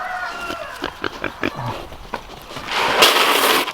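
Pigs grunt in short, rapid bursts close by, followed by a louder squeal or rough snort near the end.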